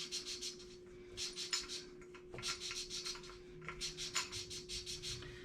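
A Chevy small-block cylinder head valve is hand lapped with a suction tool and grinding compound, making soft, rhythmic rasping strokes back and forth that repeat steadily and quietly, close up, with no voices.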